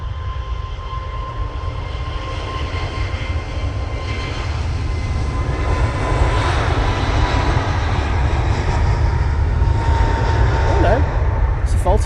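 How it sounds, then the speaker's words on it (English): An EasyJet Airbus A321neo jet takes off at a busy airport, its engines producing a continuous broad roar that swells slightly as it climbs, with faint talk in the background. "This is EasyJet A321neo off to Krakow."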